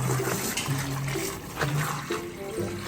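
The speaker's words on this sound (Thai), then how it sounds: "เติมน้ำแป๊บ" Water pours into a tank on an old vehicle that has sat parked for almost a year. A steady, close, splashing rush fills the whole moment.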